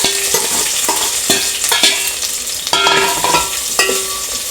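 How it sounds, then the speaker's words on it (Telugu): Onions and green chillies frying in oil in a bowl, a loud close sizzle with regular scraping strokes of a spoon stirring through the pieces, knocking against the vessel. "ముందుగా బౌల్ వేసుకొని ఆయిల్ వేసుకుంటున్నాను, ఆనియన్ వేసుకుంటున్నాను, పచ్చిమిర్చి ఆనియన్ వేసుకుంటున్నాను"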